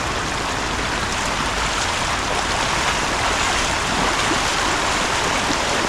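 Strong floodwater rushing down a stream through an old forest, a loud, steady, unbroken roar of churning water close by with no voices.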